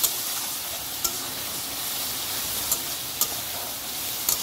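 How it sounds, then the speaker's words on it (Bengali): Chicken stir-frying with ground spice paste sizzles steadily and close in a pan, with occasional sharp scrapes of a spatula against the pan as it is stirred. "এবার আমি আরও কিছুক্ষণ এইভাবে কষতে থাকবো।"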